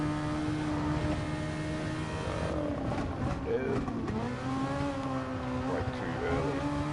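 Race car engine in Gran Turismo Sport on the Nürburgring Nordschleife, a steady droning whine that shifts pitch through gear changes and corners, with someone talking over it throughout.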